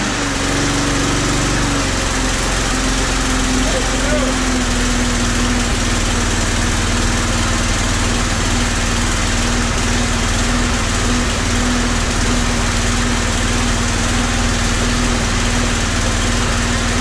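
A Briggs and Stratton petrol engine runs loud and close, a steady throbbing drone with a constant tone that barely varies throughout, no voices over it.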